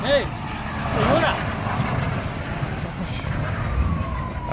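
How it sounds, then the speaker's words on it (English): A fire department siren approaches a burning house, its rising and falling wail faint and distant beneath outdoor noise and people talking nearby. "I hear the fire department."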